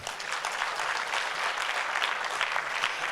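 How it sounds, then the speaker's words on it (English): Steady, dense applause from a sizeable conference crowd after a panel session, loud and continuous throughout without any talking. "let's give the panel a huge round of applause"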